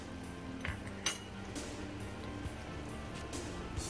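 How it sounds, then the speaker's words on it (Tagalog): Chicken curry being stirred in a pot, with soft scattered clinks and scrapes of a utensil against the pot over a steady low background, no talking. "at haluin lang po natin siya ng maayos"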